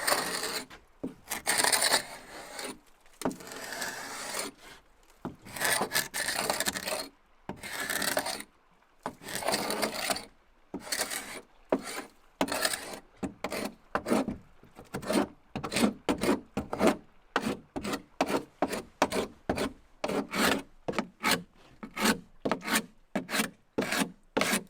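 A hand scraper drags over old painted wood in repeated rough strokes, close and raspy, starting in irregular bursts and settling into a quick steady back-and-forth rhythm with brief pauses between strokes.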